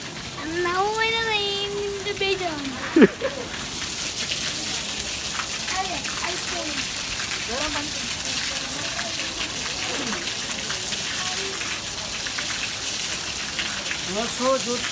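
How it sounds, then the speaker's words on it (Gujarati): Water streaming steadily from a temple gaumukh spout, a continuous splashing wash close by, with a voice speaking over the start of it. "વર્ષોથી ગૌમુખ અહીંયા પાણી આવે છે."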